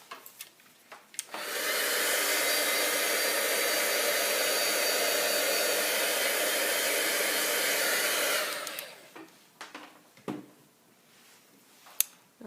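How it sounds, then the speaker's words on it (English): A craft heat tool dries ink before heat embossing with a loud, steady blowing roar that switches on abruptly, runs about seven seconds close up, then cuts off, followed by faint clicks and handling. "I'm going to give that a really quick dry with my heat tool before I do heat embossing"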